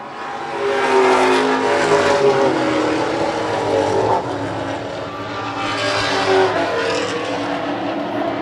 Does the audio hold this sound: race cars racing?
yes